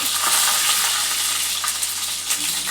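Cumin seeds, urad dal and spices frying in oil in a pan for macaroni pasta, a loud, continuous close sizzle with faint stirring scrapes and no talk.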